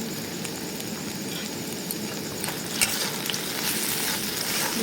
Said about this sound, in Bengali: এটাকে ভালোভাবে ভেজে নেবো